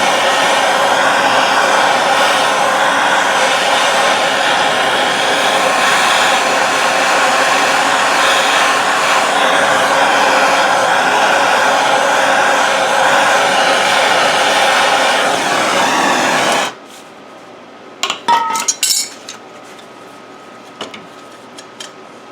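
A heat gun blows steadily and loudly on the rear hub of a 2007 Honda Accord for about sixteen seconds, then shuts off abruptly, leaving a few faint clanks and handling noises.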